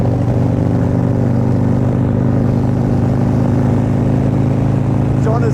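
Harley-Davidson motorcycles, including a Low Rider ST, ride along a road on a group chapter run, their engines giving a steady loud droning rumble throughout.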